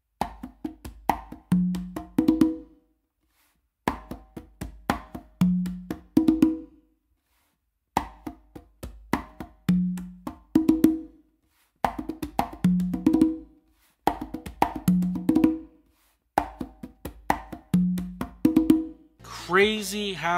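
Congas played in a caballo variation pattern: clusters of sharp open tones and slaps with low bass-finger thumps repeat in short phrases separated by brief pauses, close and clear, with no voice over them.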